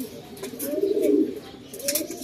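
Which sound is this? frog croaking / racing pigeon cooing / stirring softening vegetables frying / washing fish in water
racing pigeon cooing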